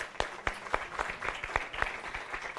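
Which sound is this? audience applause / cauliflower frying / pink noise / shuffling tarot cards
audience applause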